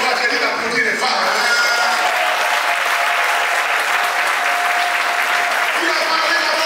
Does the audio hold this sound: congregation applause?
yes